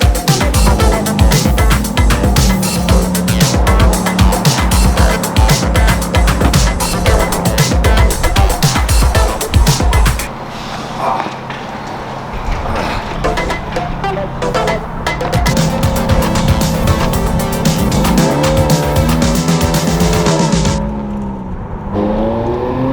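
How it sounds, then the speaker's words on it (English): A Ferrari engine drones and revs loudly from inside the car while driving, with shifting engine pitch and a brief easing off midway before it picks up again. "We're going to jump in the Ferrari and we're going to go pick up the Hellcat"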